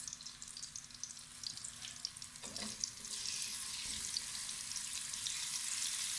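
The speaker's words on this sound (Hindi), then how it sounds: "गर्म हो चुका है हमारा घी। और इसके साथ हम डाल देंगे 1 चम्मच ज़ीरा" Cumin seeds sizzle in hot ghee in a pan, a steady close crackle that grows denser and louder partway through, with no talk.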